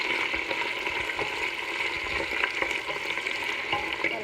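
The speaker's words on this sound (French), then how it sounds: "Et on va rajouter l'oignon quand ça va chauffer l'huile." Chopped onion sizzles and fries in hot oil in a pot while a kebab is being cooked, a steady, close crackling hiss with occasional stirring scrapes throughout.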